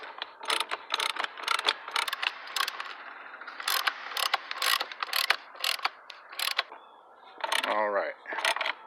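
A ratchet wrench tightens the 24 mm rear axle nut on a 1994 Suzuki RM250 dirt bike, producing rapid bursts of sharp metallic clicks in repeated strokes, close and loud, ending with a brief squeaky, whirring sound.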